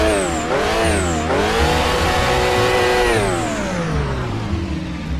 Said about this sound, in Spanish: Ya, enciende el auto.